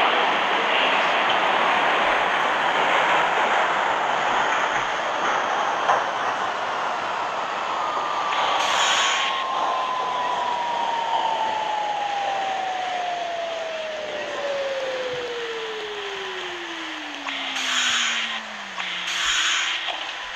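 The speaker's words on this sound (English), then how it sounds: "This is a World Trade Center bound E local train." An R46 E local subway train in the Hmmsim train simulator game runs between stations on the 8th Avenue local line, a steady loud rumble throughout with a long falling motor whine sliding downward as it slows, plus brief hissing bursts near the end.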